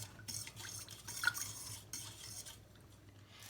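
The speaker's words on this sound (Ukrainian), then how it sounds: "Замішуємо тісто, поступово додаючи рідку частину." Close, soft scraping and clinking of fishing-bait boilie dough being mixed in a bowl, irregular strokes at a quiet level with a faint low hum behind.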